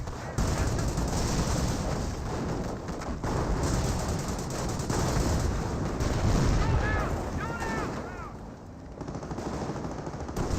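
Gunfire hitting Panzer Grenadiers in the strategy game Company of Heroes: sustained loud machine-gun bursts and scattered shots, dense and continuous for several seconds, with a few whistling shell sounds near the end.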